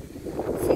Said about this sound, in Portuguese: tá ventando.